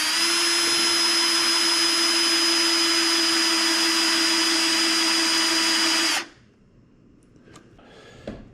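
A power drill bores steadily into a firewood rail for about six seconds with a loud, constant whine, then cuts off abruptly, leaving faint handling clicks and a brief tap near the end.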